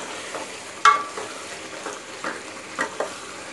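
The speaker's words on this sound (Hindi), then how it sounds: "ये देखिए पालक की भुनाई कर रही हूँ, अब इसने ऑयल निकालना शुरू कर दिया है।" Spinach and chicken stir-fried in oil, a soft sizzle under irregular scraping stirs, with one sharp clack near the start and several lighter knocks after, close and fairly quiet, with no voices.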